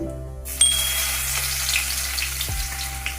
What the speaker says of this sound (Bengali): এই তেলের মধ্যে আমি দিয়ে নেব একটু কালো জিরে আর দিয়ে নেব আমার কিছুটা থেতো করা রসুন